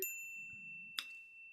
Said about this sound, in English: click the notification bell